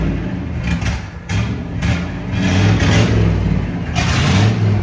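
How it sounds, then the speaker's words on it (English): A loud, raw Camaro IROC-Z engine with open headers revs repeatedly with a harsh, open exhaust roar, surging and dropping in bursts over a steady rumble. "That's what open headers sound like."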